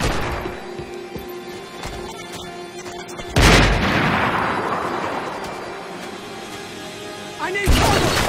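Max Payne 3 firefight with two sharp, loud gun blasts, one midway and one near the end, over a steady din of background combat noise, with shouted voices in between.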